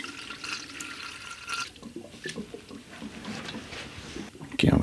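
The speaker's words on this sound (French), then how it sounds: "Allez, liquide de refroidissement." Coolant glugs and trickles as it is poured into a car engine's cooling system during a restoration, a close, uneven liquid pour with sloshing, ending in a louder burst of flow.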